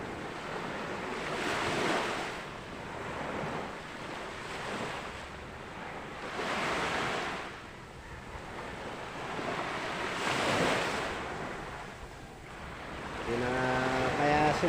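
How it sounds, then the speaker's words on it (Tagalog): Ocean waves roll at sea in slow, repeating swells, each surge of surf building and fading every few seconds under steady wind noise buffeting the microphone, with a faint voice near the end. "ang ating karagatan"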